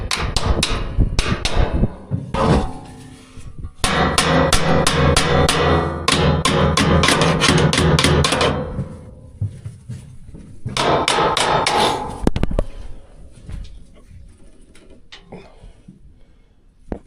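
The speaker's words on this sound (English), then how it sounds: "use my hammer" Rapid hammer blows strike metal in several loud, rhythmic bursts, separated by short pauses, close to the microphone.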